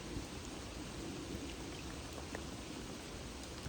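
Rain falling steadily at a private fishing lake near Hampshire, a continuous dense hiss of drops on surfaces with faint scattered pattering, even in level throughout and free of voices.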